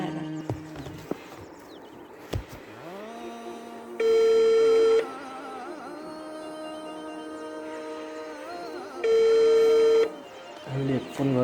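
A phone call is being placed: two long, loud electronic tones sound several seconds apart, like a ringback or dialing tone, over quiet background noise.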